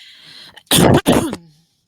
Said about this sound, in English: coughs into her hand